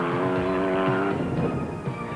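A Motortech off-road race car in the 1992 Mmabatho Sun 500 roars past with a loud, buzzing engine note that holds steady and then breaks up into rougher gravelly noise.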